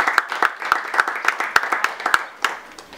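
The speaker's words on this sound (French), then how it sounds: "on l'applaudit également" Sparse clapping from a small group at a formal meeting introducing board members, with a few distinct rhythmic claps standing out close by over thinner background applause that tapers near the end.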